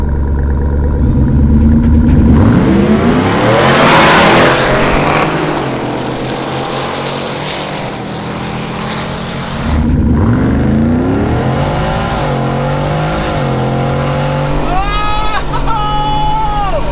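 Supercharged Hennessey Venom 775 Ford F-150 pickup in four-wheel drive launching in a drag race against a Jeep Trackhawk: loud engine roar rising as it accelerates, with crowd chatter and voices mixed in throughout.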